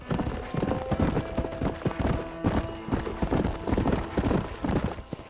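Horse hooves gallop in the Red Dead Redemption video game, a loud, rapid, driving clip-clop rhythm running throughout, close and steady.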